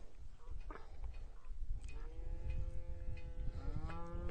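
Cows low in the distance against quiet outdoor background noise, with a couple of drawn-out moos overlapping near the end.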